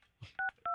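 Telephone keypad tones sound as someone dials to call back: a faint handling noise, then two short, clear, evenly spaced dialing beeps close to the handset, with no talking.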